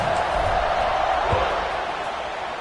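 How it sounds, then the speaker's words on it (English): Stadium crowd at a college football game between UCF and NU buzzing after a score, a dense, steady roar of many voices filling the space at a constant level. "this crowd is buzzing after that last score"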